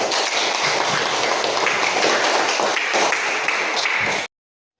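Steady clapping from a school class of students, a dense patter of many hands sustained for about four seconds before cutting off abruptly.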